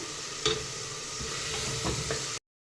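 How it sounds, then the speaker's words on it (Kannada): Onions and tomatoes frying in a pan with a dense, steady sizzle and a few sharp spoon taps and stirring scrapes, close up, ending abruptly in silence. "ಇದು ಇವಾಗ ಸಾಫ್ಟ್ ಆಗೋವರೆಗೂ ಸ್ವಲ್ಪ ಹೊತ್ತು ಫ್ರೈ ಮಾಡಿ"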